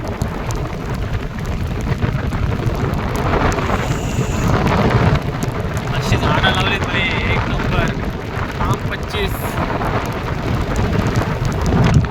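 A steady, loud downpour of heavy rain with rolling thunder rumbling through it, continuous from start to finish.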